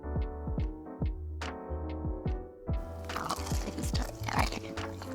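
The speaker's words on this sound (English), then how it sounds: "It's time for that crunch test." A crispy fried crab rangoon wonton is bitten and chewed up close, giving a run of sharp crackling crunches, then denser, noisier munching as the bites continue.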